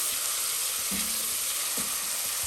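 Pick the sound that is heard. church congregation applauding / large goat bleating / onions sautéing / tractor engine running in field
onions sautéing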